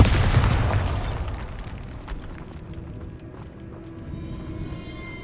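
Bombarda blasting spell explosion in the video game Hogwarts Legacy, a loud bursting boom at the start that trails off into rumbling debris and quieter rattling.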